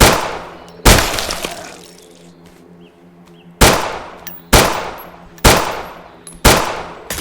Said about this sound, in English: let's try out the pistol